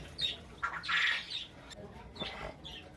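A mynah bird gives a few harsh, squawking calls in bursts, fairly close, with quiet background between them.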